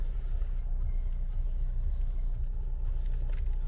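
A 2019 Land Rover Discovery Sport engine runs quietly, giving a steady, low, even rumble with no surges, close by and alone with no talking.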